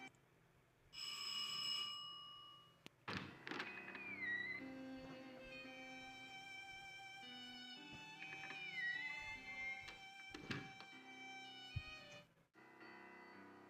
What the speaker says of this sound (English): And then you go to this door right here and ring the bell.